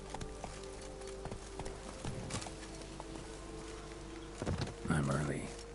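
Horse hooves clip-clopping in the video game The Witcher 3, faint rhythmic thuds under game ambience, ending with a louder burst as the horse is urged on.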